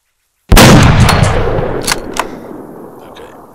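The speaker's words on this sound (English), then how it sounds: "So I'm going to line up the shot now and take it." A single loud, close sniper rifle shot fired at long range in a video game, with a sharp onset and a long rumbling tail that fades over about three seconds, with a few faint clicks afterward.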